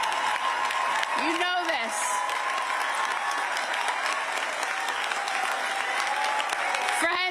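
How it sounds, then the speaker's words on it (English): A rally crowd at a campaign event for a lieutenant governor claps and cheers in a continuous roar, with a speaker's voice cutting through briefly near the start and end of the sustained noise. "So ICE out, that got the crowd cheering, standing up and clapping."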